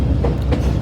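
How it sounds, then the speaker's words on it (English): Inside a Blue Ridge Scenic Railway car, a loud, steady low rumble and rattle of the moving train fills the whole moment, with faint rhythmic clacks. "Easily the loudest part of the train."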